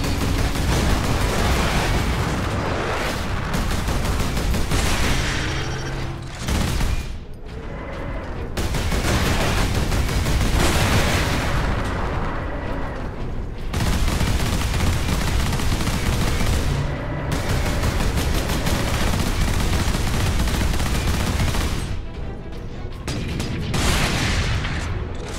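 Heavy turret gunfire roars in the Warhammer 40K Space Marine video game: dense, loud bursts of automatic fire and booming impacts run almost without a break, with only short lulls between volleys.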